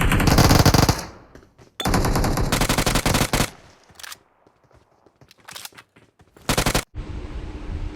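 Loud bursts of automatic gunfire in a battle royale video game, several long rapid volleys broken by short quiet gaps and a few brief shots.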